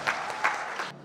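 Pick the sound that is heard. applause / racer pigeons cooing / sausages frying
applause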